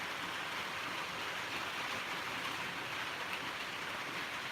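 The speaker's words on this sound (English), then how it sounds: "Yeah, it's raining." Rain falling steadily on a farm at night, a soft, even hiss of drops on surfaces that stays constant and fairly faint throughout, with no voices.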